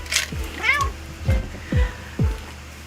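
A pet cat meows several times indoors, close and fairly loud, the short rising and falling calls spaced about half a second apart.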